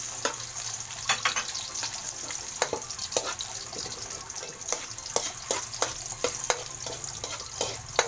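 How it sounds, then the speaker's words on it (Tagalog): Garlic sizzles steadily in hot cooking oil at the start of a Filipino dinuguan, a constant frying hiss punctuated by sharp spatula taps and stirring clicks against the pan, close and moderately loud. "Gigisa na tayo ng garlic"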